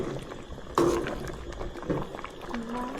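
Water boiling in a pot set on the fire to cook mushrooms and wood ear fungus, a bubbling, hissing liquid sound with a sudden louder splash or pour near the start, under faint background talk.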